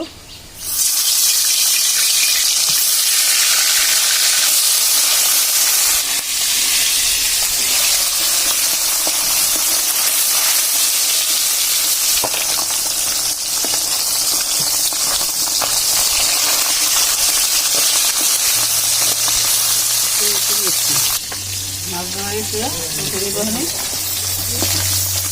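Khalla fish pieces fry in hot oil in a kadai, a loud, continuous close-up sizzle that crackles steadily throughout, with a faint voice and some stirring near the end.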